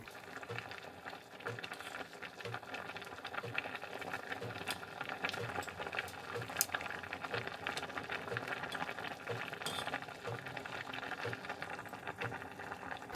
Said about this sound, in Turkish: yumuşayıncaya kadar böyle kaynamaya devam edecek